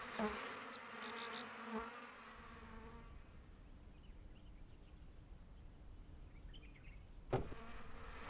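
Steady honeybee buzzing hums throughout at a hive of 50,000 bees close by, with a brief sharp tap near the end.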